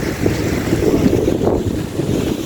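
Steady wind buffets the microphone over choppy sea waves, heard from aboard a boat on open water. A constant rushing roar continues with no voices.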